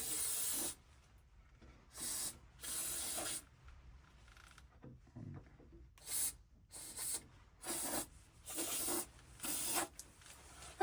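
Seam sealer sprays inside the passenger door of a supercharged 1275cc Classic Mini in a series of close, hissing bursts about a second long, separated by short quiet pauses.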